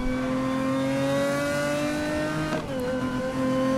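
Engine of a racing-tuned car in Need for Speed Most Wanted (2012), a steady loud mid-pitched drone holding revs, briefly dipping in pitch as it shifts, then settling again.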